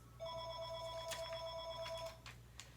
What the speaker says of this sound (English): You know the phone always rings in the most inconvenient times.